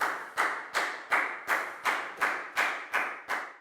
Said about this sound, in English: Big round of applause and a high five for Net.